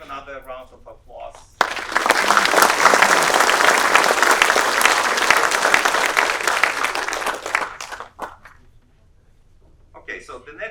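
A roomful of faculty and staff bursts into applause at an engineering college meeting, dense clapping sustained for about six seconds before fading, with a voice talking briefly before and after.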